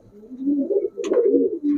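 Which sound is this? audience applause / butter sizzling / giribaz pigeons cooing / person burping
giribaz pigeons cooing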